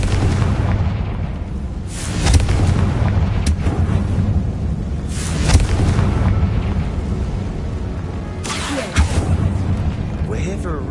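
Confringo blasting spell explosions in Hogwarts Legacy, several loud booming bursts spaced a few seconds apart over a rumbling low background, with a voice speaking between them.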